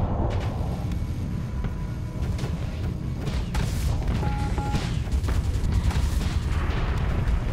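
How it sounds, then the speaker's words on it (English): Ship weapons fire in a Starsector space battle, a dense barrage of booms and sharp impacts over a steady rumbling bed, with repeated bursts and bright high tones, no talking. "Come on, keep shooting."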